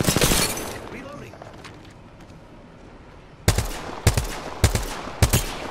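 G7 Scout rifle fire in the Apex Legends video game: four loud, evenly spaced single shots ring out close, each with a short echoing tail, after an earlier stretch of fainter distant gunfire.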